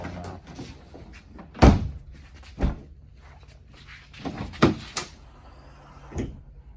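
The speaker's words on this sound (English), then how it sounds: "Easily lowers the tailgate." The tailgate of a 2015-2020 Ford F150 fitted with a Dee Zee tailgate assist is worked, giving several close, hollow thunks and clunks at uneven intervals, each fading quickly into quiet.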